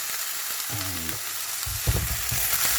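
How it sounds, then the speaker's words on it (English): Cauliflower rice seasoned with black pepper, cayenne and a little sugar sizzles and fries in a pan while being stirred, a steady close hiss with scraping stir strokes and a few louder clatters, no talking. "it's just stirring, always keep stirring, so it doesn't burn"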